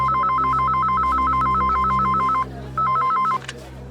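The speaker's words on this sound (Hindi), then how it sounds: "किसका फोन है?" A telephone rings in a Hindi TV crime drama, giving a fast warbling electronic trill that repeats steadily, breaks off briefly, then resumes for one more burst before cutting out. The ring is loud and close over a low room hum.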